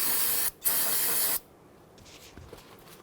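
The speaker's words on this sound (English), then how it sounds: "I'm going to spray this down with some solvent." A short burst of aerosol solvent sprayed onto the starter area of a 2008-2013 Infiniti G37x 3.7L V6, loud and close, two hissing bursts with a brief gap, then quieter handling noise.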